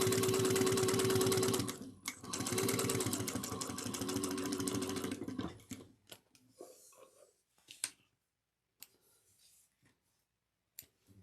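A sewing machine stitches a cross-body bag in steady fast runs for about five seconds, pausing briefly near the two-second mark, then gives way to quiet handling clicks and faint rustling.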